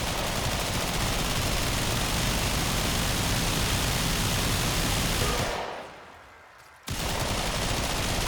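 Rapid automatic gunfire from the video game Mesa, a dense continuous hiss-like barrage running loud and steady, briefly cutting out near the end before resuming.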